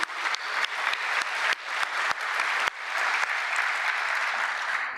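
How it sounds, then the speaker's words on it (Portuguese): A crowd at a Brazilian government bill-signing ceremony gives warm applause, a steady wash of many hands clapping at moderate volume with a few sharper individual claps standing out. "Acho que merece uma salva de palmas também"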